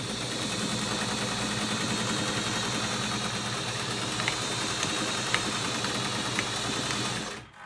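A sewing machine runs steadily and close for several seconds, stitching elastic onto a fabric face mask, with a continuous whirring buzz and a few small clicks before it stops abruptly at the end.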